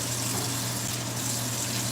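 Water runs steadily from a kitchen tap while something is rinsed out, a constant close rushing flow with a low hum underneath.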